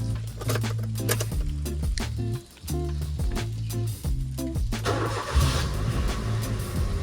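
A car with its check engine light on cranks and starts, settling into a steady low engine rumble that runs close and continuous for several seconds, with no talking.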